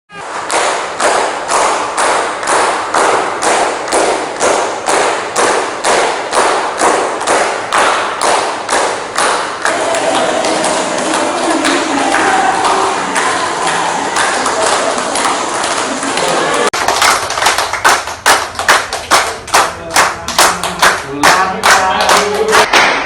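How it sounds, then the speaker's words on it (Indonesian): Thousands of hospital staff, patients and visitors at a Palembang hospital clapping together in unison, a loud, rhythmic series of sharp claps that briefly breaks into a continuous applause wash midway before returning to synchronized beats. "Kegiatan tepuk tangan selama 56 detik ini"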